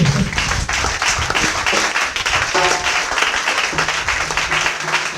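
A church congregation applauding at an evangelist's service, dense continuous clapping from many hands that fills the room throughout.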